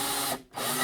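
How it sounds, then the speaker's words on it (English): A power drill bores through a modified phone head mount, whirring loudly and steadily, cutting out for a moment midway, then spinning back up at full speed. "Now hopefully I'll just make sure the drill's going the right way."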